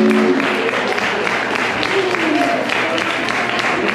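A concert crowd claps and cheers in dense, continuous applause for a saxophone section, staying loud throughout, with voices mixed into the noise.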